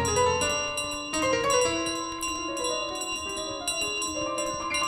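A bell in Untitled Goose Game rings repeatedly with bright, clear metallic tones, struck in quick irregular succession over several seconds, loud and close with no talking.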